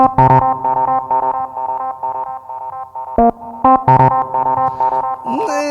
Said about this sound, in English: I tried and I used a Juno 106.